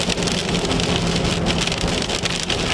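Hail and heavy rain pound a storm chase vehicle during a severe thunderstorm in southwest Oklahoma, a dense, loud, continuous rattle and hiss on the roof and windows.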